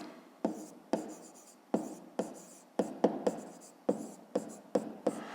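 Pen strokes scratch across paper while working through a fifth-grade maths exercise: about a dozen short, close scribbling bursts in an uneven rhythm, each starting sharply and fading, with no voices.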